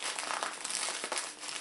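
Paper packaging crinkles and rustles continuously as it is opened, close and fairly loud, with no voices.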